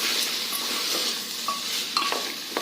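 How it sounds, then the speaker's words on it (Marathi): A spoon stirs a bajra khichdi mixture with soaked moong dal in a pot, giving a soft, close, steady sloshing scrape with a couple of light metallic clinks against the pot and no voices. "परत मिश्रण एकदा छान हलवून घ्यायचं"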